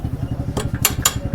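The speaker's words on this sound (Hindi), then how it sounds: "अब हमारी बाइक स्टार्ट भी हो सकती है।" Hero HF Deluxe BS6 motorcycle with its engine running close by in a brief burst, a steady low throb broken by a few sharp metallic clatters, with no voices.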